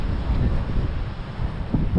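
Wind gusting steadily across an open seaside boulevard in Sorsogon, beside a black-sand beach with mangroves, during rough weather, a continuous low roaring rush buffeting the microphone with no voices.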